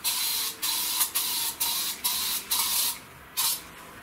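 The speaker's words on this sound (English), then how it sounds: "I'm going to spray it with some insect repeller" Short hissing bursts of an aerosol insect repellent spray, seven in a row with brief gaps between, close and fairly quiet, sprayed in a workshop drawer space.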